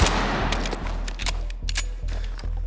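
A real pistol fires in a rapid string of sharp, loud, close shots at a quick, even rhythm, about seven reports in under three seconds, running until the slide locks back.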